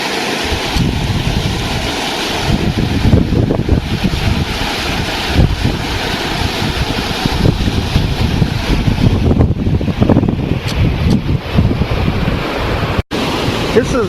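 Flash-flood water rushes down Walnut Arroyo off Spence Road in southern Chaves County, New Mexico, a steady broadband roar that runs throughout with gusts of wind buffeting the microphone.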